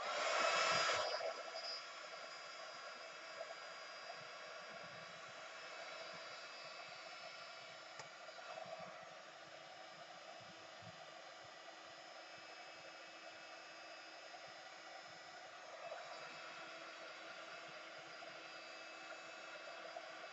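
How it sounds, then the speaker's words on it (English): A hair dryer or heat gun blows steadily on a handmade altered craft tag, a continuous close whooshing drone that holds evenly for the whole stretch with no talking over it. "So all I'm doing is just drying these so I can actually now then work over them."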